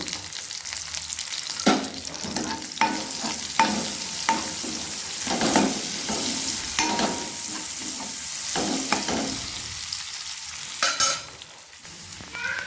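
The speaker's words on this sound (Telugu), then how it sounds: "ఆనియన్స్ అయితే ఇట్లా ఫ్రై అయితే సరిపోతుందండి" Onions frying with turmeric in a pan give a close, steady sizzle broken by frequent sharp scrapes and clacks of a spoon stirring, with brief louder bursts and no talking.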